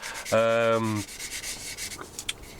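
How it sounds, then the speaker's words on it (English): A fine spongy sanding stick works over a plastic Tamiya 1/48 Supermarine Spitfire Mk.I model kit: a short, loud squeak opens, followed by quieter, uneven rubbing strokes. "we should hopefully be able to sand in a nice seamless finish"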